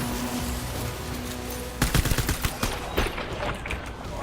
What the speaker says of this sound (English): Okay, they have freaking shotguns.